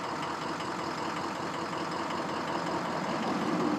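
A 2003 Ford 6.0 Power Stroke diesel with a dead number 6 injector runs at idle, a loud, rough, low rumble with uneven knocking, close and steady throughout.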